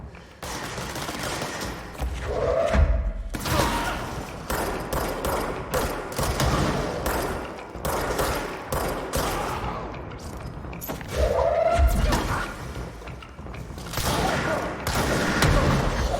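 Gunfire and combat noise in the game Control, repeated sharp shots and thuds spread throughout over a continuous busy background of game sounds, with a few louder bursts along the way.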